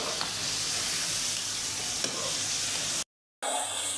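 Spices for achar gosht hiss in a hot pan in a steady, dense sizzle with light stirring, broken by a brief cut to silence before the frying resumes, no voices.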